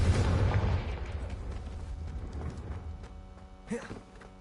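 A booming fire-spell explosion from Confringo in the video game Hogwarts Legacy, opening with a heavy low blast that decays into a rumbling hum, followed by a short crackling burst.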